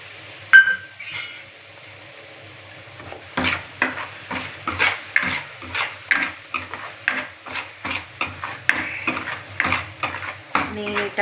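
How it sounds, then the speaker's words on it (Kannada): Fine semolina (rava) is stirred and roasted in a pan over medium flame, the spoon scraping in a quick, steady rhythm of clinks and rasps that continues close up, with no voices. "ನೀಟಾಗಿ ಮೀಡಿಯಮ್ ಫ್ಲೋ ಅಲ್ಲೇ ಚೆನ್ನಾಗಿ ಹುರ್ಕೊಳ್ಳೋಣ ಸಣ್ಣ ರವೆನ"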